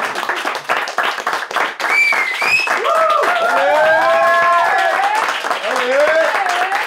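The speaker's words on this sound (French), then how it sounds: "Vous pouvez m'applaudir un petit coup, là?" Audience clapping for a comedian on stage, a short burst of applause fading under loud whoops, cheers and shouted voices from the crowd.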